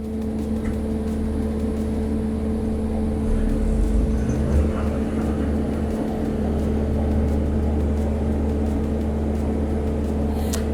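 Small diesel generator running steadily at a LAN party event site, a continuous low droning hum with a constant tone that stays even for the whole stretch.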